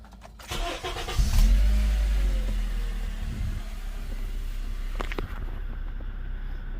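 A car on a drive during an evaporative emissions fault diagnosis, with the engine rumbling low and steady and road noise throughout, plus a few brief knocks and clicks; no one talks.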